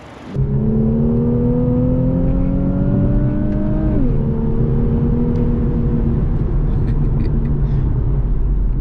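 Infiniti Q50S Red Sport with its VR30 twin-turbo V6 accelerating hard, a loud rising engine tone that climbs through a gear, shifts with a brief dip, then keeps pulling, heard from inside the car.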